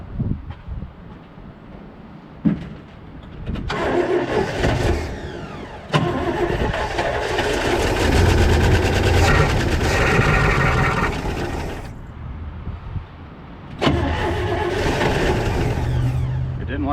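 A 1979 International Scout II that sat for over 20 years cranks and stumbles toward a first start, its engine catching, revving and sagging in bursts close by, with people talking between attempts.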